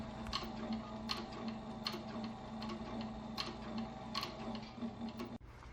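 A Cobra Class 26 sewing machine with size 138 white thread stitches leather glass covers, giving a steady, quiet mechanical ticking at an even rhythm roughly once a second over a constant motor hum.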